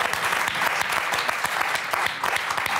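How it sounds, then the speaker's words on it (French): Studio audience applauding a contestant on the French TV word game show Motus, a dense, steady wash of clapping that stays loud and continuous throughout. "on va vous applaudir très fort, Claire Audrey."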